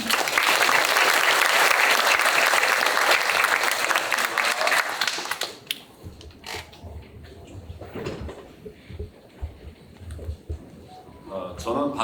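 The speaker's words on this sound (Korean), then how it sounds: "큰 박수 부탁드리겠습니다" Loud applause from a lecture audience welcoming a guest speaker, a dense steady clapping for about six seconds that then drops away, followed by quieter room sounds and someone talking.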